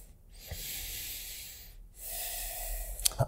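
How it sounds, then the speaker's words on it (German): Slow, deep breaths are taken during a hip mobility and balance exercise. Two long, soft airy breaths are separated by brief pauses and end with a quick sharper exhale, all quiet and close. "Und tiefer atmen in die linke Flanke."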